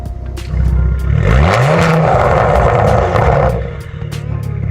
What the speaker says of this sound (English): I'm gonna rev it, open the valves